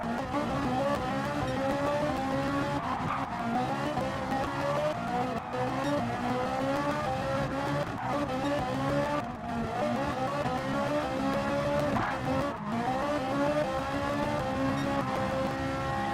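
Race cars in Gran Turismo Sport braking hard into the last chicane, a continuous loud engine roar with shifting pitch and brief downshift dips, no talking.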